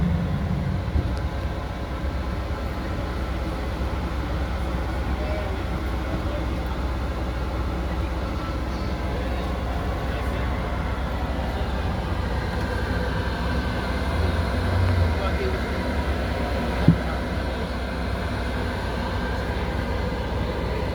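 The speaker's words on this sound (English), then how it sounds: "This is the airport." Constant low rumble and hum of an airport interior fills the whole stretch at an even level, with faint scattered background noises and one brief louder knock near the end.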